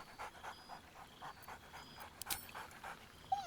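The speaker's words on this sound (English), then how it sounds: "Scratch barks merrily in something like agreement." Scratch, the dog companion in Baldur's Gate 3, pants in quick rhythmic breaths, faint and close, with a short yip-like burst partway through.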